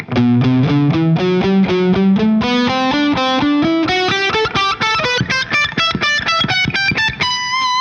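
A heavily distorted electric guitar runs a fast ascending lick of rapid picked notes, climbing steadily in pitch and ending on a held high note.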